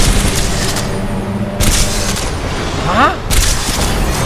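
Electromagnetic cannon gunfire in the video game Titanfall 2, loud booming blasts in a burst at the start and two more heavy shots later, over constant game noise with a brief shout.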